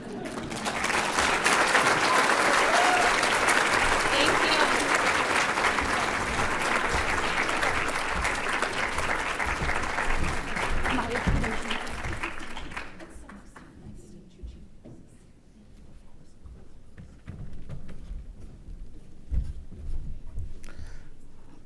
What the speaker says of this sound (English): if you would join me in clapping so loud that she can hear us all the way in Minnesota